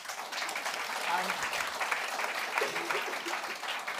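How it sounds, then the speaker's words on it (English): An audience at a business growth event applauds a panel after fireside chats, steady dense clapping sustained throughout at moderate level. "we just have a final round of applause for our fireside chats and also our brilliant keynotes as well"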